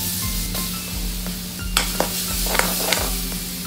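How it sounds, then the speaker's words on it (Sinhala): Garlic sizzles steadily in a pan while being stirred for ramen noodles, with occasional sharp metallic scrapes and clinks of a utensil against the pan. "සුදු ලුණු එක බැදෙද්දි ලුණු දාලා ඒ විදිහට තමයි හදාගන්නේ."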